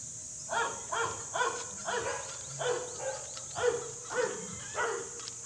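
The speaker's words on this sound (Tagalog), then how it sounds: "Malaking tahol ng aso." A large dog barks repeatedly in a steady series of deep woofs, fairly close, with a constant high insect-like hiss in the background.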